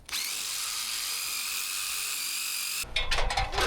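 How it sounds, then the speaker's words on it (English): A power drill bores into roof flashing during squirrel exclusion work, giving a loud, steady high-pitched whine for about three seconds that stops abruptly, followed by brief clattering handling noises. "Working too far above your head makes for some difficult drilling."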